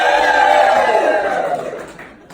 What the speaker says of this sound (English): The crowd, they cheered me!